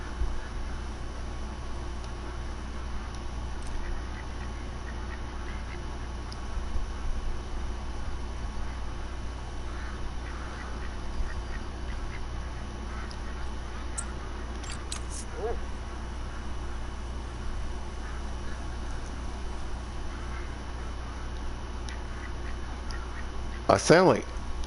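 Ducks quacking in the hunting game Call of the Wild, faint scattered calls over a steady low ambient bed, with a short louder burst near the end.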